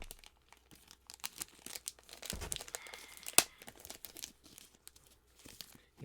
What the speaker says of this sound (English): And get these out of these stupid plastic bags.